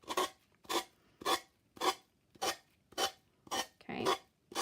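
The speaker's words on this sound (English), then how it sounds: "the easiest way to do this is to take the sanding block and just go straight down" Rhythmic rasping strokes of a sanding block on an edge, about eight even scrapes with short pauses between, close and fairly quiet.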